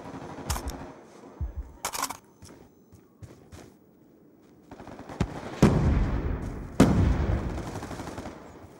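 Sharp gunshot blasts crack out at irregular intervals in a shooter video game, with two heavier booming explosive shots near the end, over faint game background noise.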